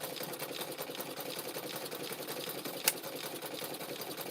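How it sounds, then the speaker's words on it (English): An old sewing machine with a hot foot pedal runs continuously, stitching rope into teacups. It gives a fast, even mechanical whir with rapid needle ticking and one brief sharp click near the end. "In this sewing machine, I can only do 2 teacups at a time."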